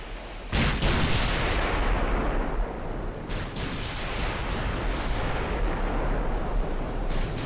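Naval guns fire on warships in the video game Ultimate Admiral: Dreadnoughts, with loud booming salvos over a dense, continuous roar of battle and repeated heavy thuds that rumble and fade.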